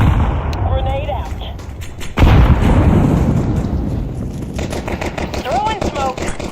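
A grenade explodes in Counter-Strike 2 with a sudden heavy boom partway through, followed by a long rumbling decay. Sharp gunshots and other game sounds come before and after the blast.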